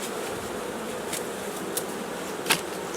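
Carpathian bees hum in a steady, even drone at a warm hive, close and continuous with a few brief louder passes.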